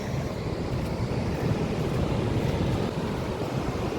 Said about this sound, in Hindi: शायद आपको पानी का आवाज़ आ रहा होगा शायद।